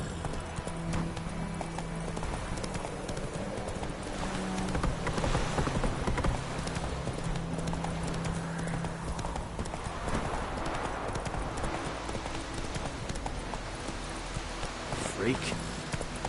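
The horse Roach clip-clops along at a steady walking pace in The Witcher 3, its hooves tapping evenly over a busy game backdrop, with some talk mixed in.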